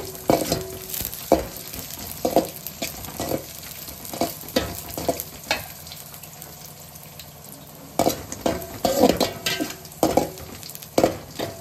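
Dried grapes sizzling in hot ghee for festival prasadam, with a steady frying hiss and frequent rhythmic spoon scrapes and taps on the pan, busier in bursts toward the end.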